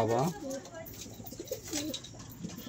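Pigeons, including a female, cooing in a loft, with soft, rolling, warbling coos repeating close by and a voice talking over them.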